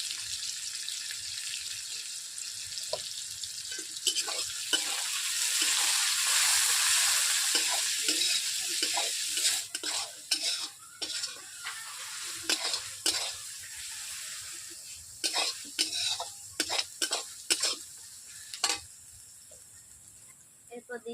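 Onions sizzle and fry with a little salt in a pan for a village-style Bengali chicken curry, a bright crackling hiss broken by repeated scraping stirs, with someone talking over it.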